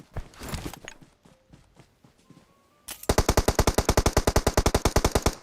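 Automatic gunfire in the mobile battle-royale game PUBG Mobile erupts midway as a fast, even burst of loud close shots, after a quieter stretch of scattered footsteps and clicks.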